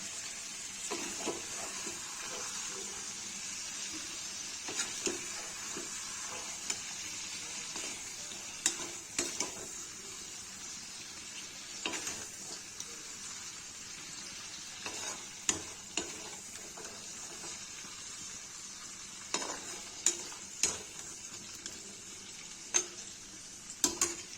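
Mutton liver frying in a pan while being stirred: a constant quiet sizzle with repeated sharp ticks and scrapes of the spoon against the pan, close and without talk.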